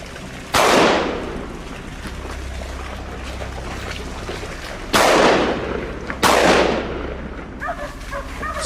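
Loud gunshots ring out during a wild boar hunt, three sharp blasts at irregular intervals with decaying tails, set against steady low outdoor rumble and rustling, with no talk.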